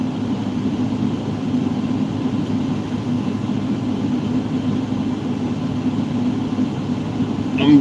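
A truck sits idling with its air conditioning running beside a trailer, giving a steady, continuous low drone with a constant hum and no change in rhythm, and no voices over it.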